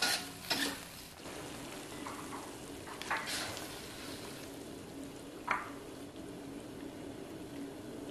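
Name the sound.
chicken feet added to cooking sambal with lemongrass and bay leaves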